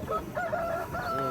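Country chickens at a rural livestock market crow and cluck, a couple of drawn-out calls close by over a busy, noisy background with no clear talk.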